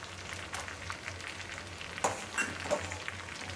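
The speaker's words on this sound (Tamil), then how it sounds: "கொதி வந்துருக்கு" Soup with rice flour stirred in bubbles in a pot on the stove, a steady low simmering hiss with faint sizzle and a few sharp spoon-against-pot knocks near the end, no voices.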